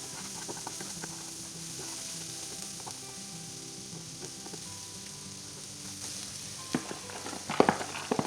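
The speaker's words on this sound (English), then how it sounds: "once this butter is melted, we're going to add the 3 cups of rice" Cold white rice frying in melted butter in a pan, a steady low sizzle with a few scattered taps and scrapes of a utensil that grow louder near the end, close and quiet, with no voices.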